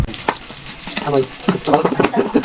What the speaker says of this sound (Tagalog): Magigisa na si Bayaw, una niyang ilalagay yung luya.